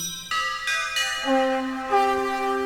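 Synthesized bell-like tones from a Roland XPS keyboard ring out in a sequence of sustained, layered notes, each new pitch entering over the last with bright metallic overtones.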